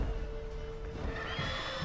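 In The Witcher 3 game, a horse whinnies in distress as a griffin seizes it, a fairly faint, strained neigh over soft background game ambience.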